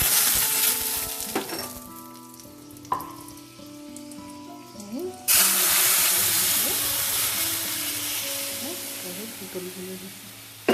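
Dried red chillies, bay leaf and panch phoron sizzle in hot mustard oil in a kadai, a hiss that surges loudly midway as more goes in, with a voice talking over it.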